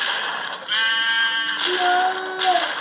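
A sheep in the video game Minecraft gives two close, clear bleats, a wavering baa followed by a second call, with faint game sounds in the background.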